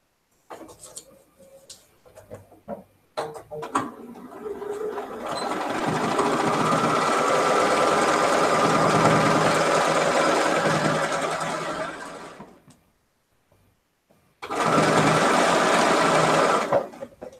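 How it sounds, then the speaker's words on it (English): A sewing machine stitches two quilt pieces together in a steady whirring run of several seconds, followed by a pause and a second short burst, with a few faint clicks of handling at the start. "Okay, so let's sew these two together."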